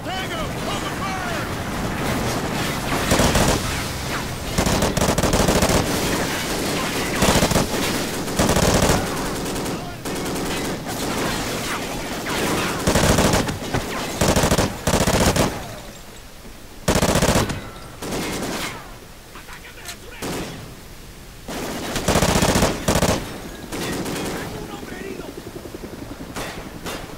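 Sustained automatic machine gun fire in a Call of Duty mission battle, loud and near, coming in long bursts with short gaps and broken by shouted voices and other combat noise.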